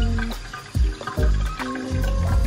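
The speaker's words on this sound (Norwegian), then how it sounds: "Så må vi ha opp i litt vann." Water poured into a bowl while cooking, heard as close, uneven splashing and trickling with a few heavier gushes over about two and a half seconds, with no talking.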